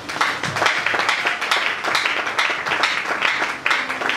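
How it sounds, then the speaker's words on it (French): A church congregation applauds and cheers in praise of the Lord, a steady, dense wash of many hands clapping with scattered voices mixed in throughout. "Acclamons le Seigneur."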